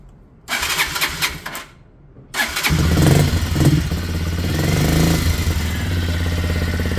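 A Chinese motorcycle is started for warm-up. A short cranking burst is followed by a pause, then the engine catches on the second try and settles into a loud, steady idle close by.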